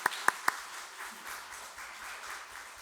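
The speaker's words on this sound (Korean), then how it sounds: "우리 잘 왔다고 그럼 박수 한번 보내겠습니다." A church congregation at a Sunday worship service gives a brief round of applause: three sharp claps up front, then soft, scattered clapping spread across the room, fairly faint.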